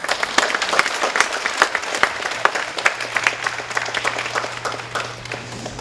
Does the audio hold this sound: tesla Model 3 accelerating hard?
no